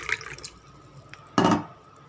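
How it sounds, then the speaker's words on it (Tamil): Water is poured from a glass while cooking samai (little millet) upma, a short splashing burst after a faint early trickle, close and alone. "நான் ஒன்றரை கிளாஸ் ஊற்றிக்க போகிறேங்க தண்ணி அதே கிளாஸில் தான் எடுத்துருக்கேன்"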